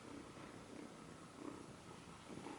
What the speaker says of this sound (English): Cat purrs.